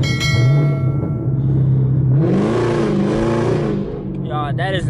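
A Corvette Z01 on street tires revs hard in third gear, the engine climbing from a steady drone into a loud, rising roar with spinning-tire hiss, and a voice breaks in near the end.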